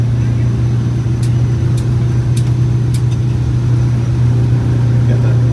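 Turbocharged Detroit Diesel 8V92TA engine in a Wanderlodge bus pulling hard at full throttle, a steady loud low drone with a constant hum throughout, heard from inside the cabin, with a few faint clicks above it.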